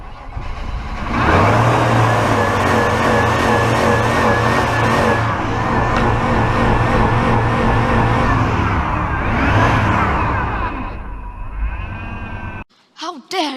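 An old OBS Chevy truck engine revs hard and holds high against its rev limiter, with a droning roar and a stuttering pulse, then drops away and falls quiet near the end.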